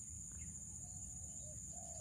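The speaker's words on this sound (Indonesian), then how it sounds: "Di sini ternyata banyak sekali burung punainya." Pink-necked green pigeons call in a village setting, soft low coos rising faintly a few times over steady low rumble and a constant high whine, with no voices.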